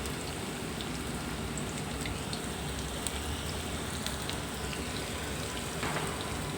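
Cauliflower pieces for Gobi 65 deep-frying in hot oil, a steady dense bubbling sizzle that holds even throughout with no talking.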